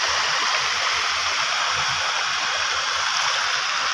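Swollen river floodwater pours across a bridge whose pipes are choked with big stones, giving a steady, broad rush of flowing water heard close and unbroken, free of any talking.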